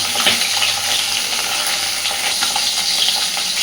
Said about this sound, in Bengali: মাছ দুটি সুন্দর ভেজে নিয়েছি, এইগুলোকে তুলে নেব আর এই একইভাবে বাকি মাছটাও আমি ভেজে নেব